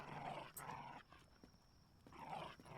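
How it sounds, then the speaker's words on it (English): Dog growling in low, rough bursts while tearing apart a lampshade, two strong snarls bracketing a quieter rumble, close and fairly faint overall. "My dog is destroying that lampshade"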